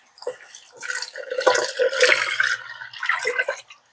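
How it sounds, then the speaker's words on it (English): Broth splashing and gurgling as it pours into a pot for cheeseburger soup, with soft drips and metallic clinks, close up and fairly loud for a few seconds. "I just put the whole thing in the pot and pour this way."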